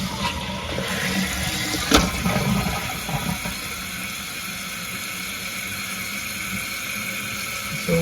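A toilet tank refills through its fill valve, a steady hissing rush of water, with a sharp knock early on, continuing evenly throughout.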